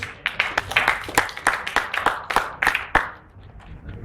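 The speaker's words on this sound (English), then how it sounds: "A very big round of applause for Phoenix." Scattered clapping for a student team called Phoenix at a university pitch event, a modest cluster of separate claps that thins and fades after about three seconds.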